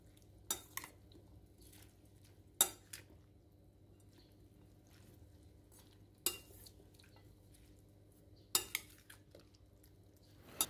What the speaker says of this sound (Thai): คลุกเคล้าให้เข้ากันเลยครับ